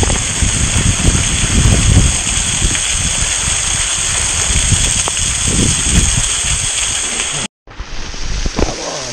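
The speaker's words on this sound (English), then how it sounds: "Washing the bum now." Water gushing loudly and steadily over a bum during washing, a continuous close splashing rush that cuts off abruptly near the end before a brief resumption.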